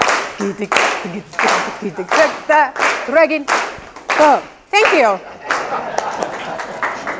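An audience at a Toastmasters speech claps to mimic a drum circle, producing repeated bursts of clapping with a speaker's voice in between.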